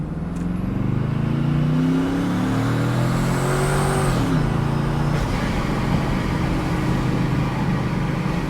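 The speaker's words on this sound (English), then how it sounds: "We're gonna do a pull." A TorqStorm-supercharged Chevrolet Silverado makes a full-throttle dyno pull. The loud engine drone climbs steadily for about four seconds with a rising supercharger whine, then drops off into a sustained rumbling roar.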